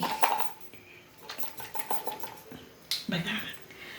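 A lid is fitted onto a ceramic jar of karonda pickle, producing a few close clinks and scrapes of hard material and a sharper knock near the end, with a voice speaking quietly in between.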